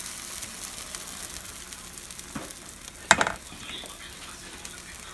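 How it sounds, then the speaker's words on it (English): Soft, steady sizzling of pancake batter frying in oil in a pan, with a brief sharp clatter midway and low background noise. "it's creating that sizzle on the side"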